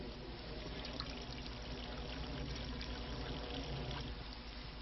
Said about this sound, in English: As the water is filtering through,